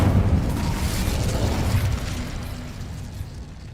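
A fiery burst from the Incendio fire spell in Hogwarts Legacy: a loud, roaring whoosh with crackling explosive texture that slowly fades over several seconds.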